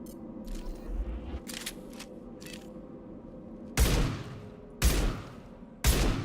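Mass Effect 2 pistol, SMG or shotgun fire: a few faint early pops, then three loud, sharp shots spaced about a second apart, each with a short decaying tail.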